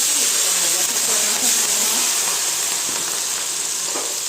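Asafoetida and chili-ginger paste hit hot oil for a Kathiyawadi vagharelo rotlo tempering, giving a loud, steady close sizzle and hiss throughout.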